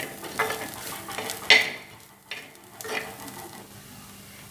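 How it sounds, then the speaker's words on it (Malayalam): Ground coconut being stirred into cooked oysters in a pan for a Kerala-style thoran, with a spoon scraping and clinking against the pan over a soft sizzle, a few distinct knocks then quieter stirring. "ഇനി ചെയ്യേണ്ടത് ഈ അരച്ചു വെച്ചിരിക്കുന്ന തേങ്ങ ഇതിലേക്ക് കലക്കാം"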